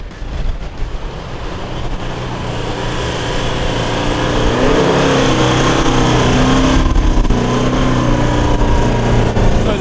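A Toyota LandCruiser 200 series 4x4 engine drones and rises in revs as it climbs a rough coastal track, loud and close, building into a sustained strained roar.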